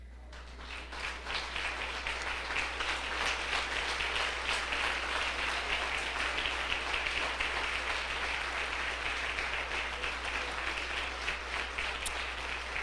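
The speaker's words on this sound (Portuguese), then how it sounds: "que tu aceites o aplauso que o teu povo vai te oferecer" Congregation applauding in a church in Recife: sustained, even, crowd-wide clapping rising quickly and holding steady at a moderate level over a constant low electrical hum, with no talk.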